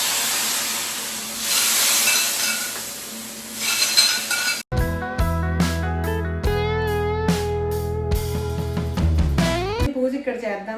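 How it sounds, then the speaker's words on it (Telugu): A tempering for sambar sizzles in a hot pan with a steady, close hiss for about four seconds. Music then abruptly takes over for the rest. "ఈ తాలింపు పెట్టేస్తే సాంబార్ ఫినిష్ అయిపోయినట్టే."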